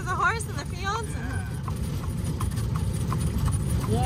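Horse hooves clip-clop at an even trot during an Amish horse-drawn ride in Lancaster, Pennsylvania, heard under people talking.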